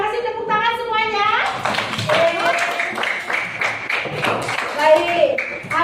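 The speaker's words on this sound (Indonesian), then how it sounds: "terima kasih, tepuk tangan semuanya" A class of primary school pupils at SDN 1 Ciburuy claps hands together in a classroom, a dense, lively patter mixed with children's voices and talk throughout.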